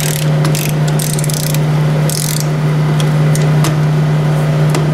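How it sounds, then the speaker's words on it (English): A ratchet tightens the oil pan bolts on a Ford 800 tractor, a series of quick clicking bursts over a steady low hum, close and loud, without talk. "Bolts to tighten up, especially when they're not already sort of snugged."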